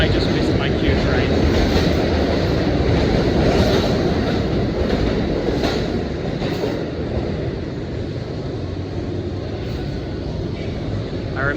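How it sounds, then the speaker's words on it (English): A New York City subway Q train pulling through a station, a loud continuous rumble and rattle of wheels and cars that barely fades across the whole stretch. "I just missed my Q train"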